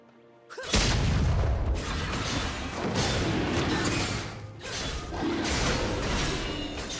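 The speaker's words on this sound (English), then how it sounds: "Red team's turret has been destroyed." A turret is destroyed in League of Legends: a sudden heavy boom starts a dense, rumbling crash and crumble that keeps surging in waves until the end.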